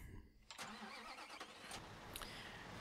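A concrete mixer truck engine starting up in Bau-Simulator 2015, a mid-pitched motor turning over and settling into a steady idle, fairly quiet, with a few sharp clanks on top.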